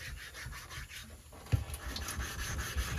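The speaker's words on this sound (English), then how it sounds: "go ahead and lap my 8" An 8K Nano sharpening hone being lapped for straight razor honing, a steady close gritty rubbing in repeated back-and-forth strokes with a soft knock partway through.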